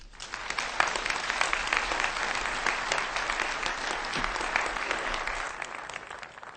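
Audience at an astronomy lecture applauds to welcome a speaker: dense, sustained clapping from a large crowd, fairly even in loudness, lasting several seconds and fading slightly at the end, with no speech.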